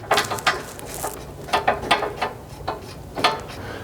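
A 13 mm ratchet tightens the skid plate mounting bolts on a Nissan Frontier, giving off quick bursts of close, sharp clicking in short irregular runs with pauses between strokes.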